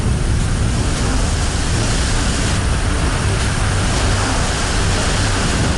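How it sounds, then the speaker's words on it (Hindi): Strong wind from Cyclone Amphan sweeping in off the sea at Digha on the Bengal coast, a loud, continuous broadband roar that never lets up, with no voices. "तेज हवा की इस आवाज को सुनिए।"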